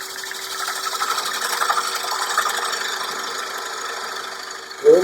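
A wood lathe spins a winged bowl blank while a gouge cuts in, giving a steady rough whirring and scraping drone that holds through the clip, ending in a short louder knock.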